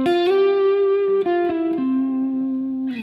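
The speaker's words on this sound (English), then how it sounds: "this is a really gorgeous plate reverb" Electric guitar played through a plate reverb on a Line 6 HX Stomp rings out in sustained, clean sliding notes that blend into a smooth, lingering wash of reverb tail, loud and alone.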